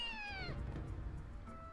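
A cat meows in the Naruto Ultimate Ninja Storm video game: one drawn-out, falling meow at the start, fairly faint, followed by low in-game ambience.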